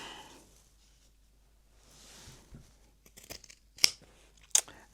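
Hand scissors snip through fabric from an old garment being remade, giving a few quiet cuts followed by two sharper, louder snips near the end, with no talking.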